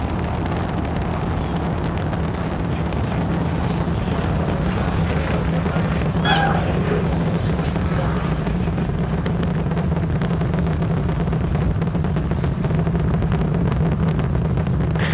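SpaceX Starship booster's Raptor engines during launch, a heavy continuous rumbling roar that stays loud and steady throughout, with no speech over it.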